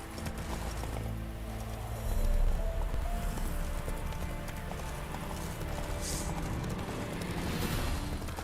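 Geralt's horse Roach trots along in The Witcher 3 video game, hooves clip-clopping in a steady rhythm under a dense layer of game music and ambience.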